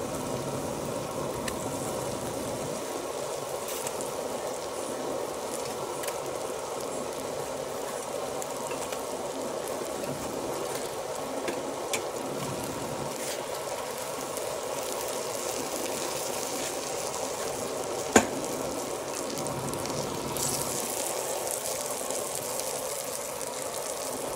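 Bangus (milkfish) frying in a pan, a continuous low hiss and crackle of sizzling oil lasting throughout at moderate volume, with occasional small pops.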